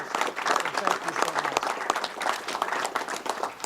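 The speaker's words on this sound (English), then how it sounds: "I want to give our governor for his leadership a big round of applause" At a sheriff's office event, an audience applauds Governor Rick Scott with a moderate round of clapping in which separate hand claps can be picked out. The clapping rises and falls in loudness as it goes on.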